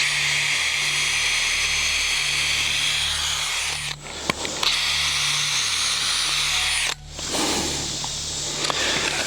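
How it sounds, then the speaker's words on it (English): A DeWalt DCD796 1/2-inch cordless hammer drill whines steadily as it bores into an old 2x6 board, pausing briefly twice before resuming, close up and fairly loud, with no talking. "a DCD 796 1/2-inch cordless hammer drill / drill driver"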